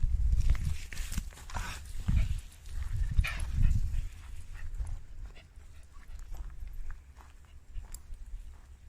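Dog moving around a mountain forest campsite, with soft footsteps, rustling and a few low sounds from the animal nearby, fading into quieter outdoor ambience.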